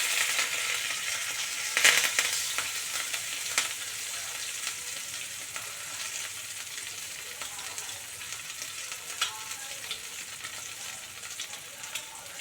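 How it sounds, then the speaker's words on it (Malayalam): Marinated fish fries in coconut oil, giving a steady, close sizzle with crackling pops that spike early and then settle into an even hiss. No one speaks. "ഇനി അതിലേക്ക് മാരിനേറ്റ് ചെയ്ത ഫിഷ് നിങ്ങൾക്ക് ആഡ് ചെയ്യാം"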